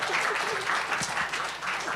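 An audience applauds after a presentation on whales and climate change, a steady, dense wash of clapping from many hands that carries evenly through the whole stretch without a break.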